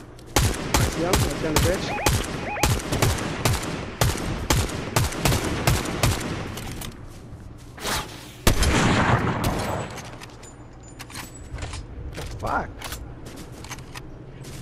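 Gunfire in Fortnite, a rapid, loud string of sharp shots through the first half, then a heavy blast followed by scattered, fainter shots, with a voice talking partway through.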